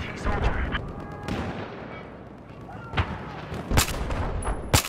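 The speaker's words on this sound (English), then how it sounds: "That's a good mortar strike." Mortar strike explosions in Battlefield 4, a series of sharp booming impacts and gunshots scattered through steady battle noise, several loud hits landing close together near the end, voices talking faintly underneath.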